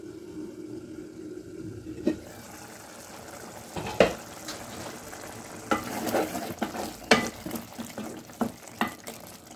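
Prawns simmer in water in a pan and are stirred now and then. There is a soft, low bubbling, broken by a few sharper scraping clinks from the stirring.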